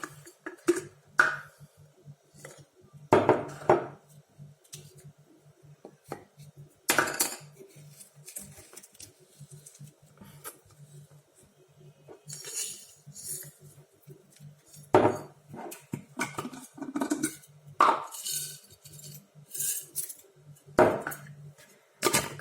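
A glass jar of homemade peach liqueur has its lid closed, giving a string of sharp clinks and clicks with quiet gaps between them, fairly close and with no talking.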